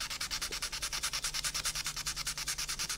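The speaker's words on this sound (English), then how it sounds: "again the same treatment with a curved blade to just scrape those pins away" A curved blade scrapes ejector pin marks off a part from a 1/32 scale Zoukei Mura Bf109G-14 plastic model kit, making a rapid, steady series of close, dry rasping strokes with no pauses.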